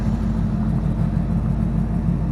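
A 1987 Chevy V30 truck engine idles steadily, a loud, close, continuous low rumble with no voices.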